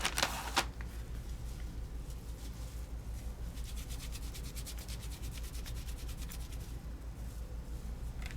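Hand rubbing over paper during a craft session with rice paper, tissue paper and vellum: a steady, close, dry brushing and scuffing texture running continuously, with a brief sharper rustle near the start.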